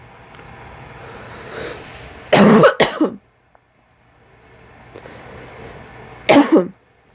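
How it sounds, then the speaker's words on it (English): A person coughs, a heavy double cough in the middle and another single cough near the end, close to the microphone with quiet room tone between. "Oh, excuse me, I got a cough."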